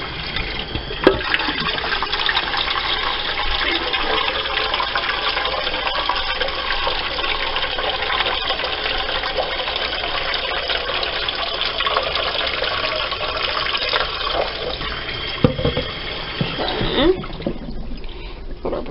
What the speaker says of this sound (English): we're going to fill it up with warm water